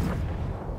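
A grenade explosion in Battlefield 1, a deep, heavy boom with rumbling low-end decay filling the short moment at close range.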